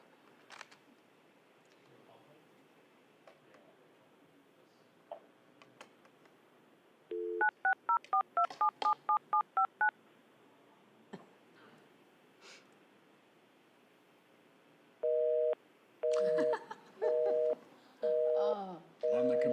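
Telephone keypad tones sound during a remote planning committee meeting: a quick run of about ten dialing beeps, followed by a series of longer, evenly spaced tones, all fairly clear over a quiet background.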